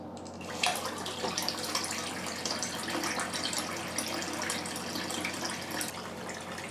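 Water rushes steadily into a toilet cistern through a Torbeck fill valve after the supply is turned back on, a continuous close hiss and gush with no talking.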